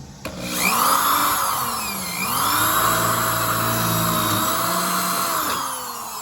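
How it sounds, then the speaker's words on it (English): A power drill whines steadily for several seconds, drilling small holes through rusted metal on a 1968 Firebird convertible, its motor pitch dipping and rising as the bit bites, close and loud. "Just go through and drill a little hole where you place your weld to go."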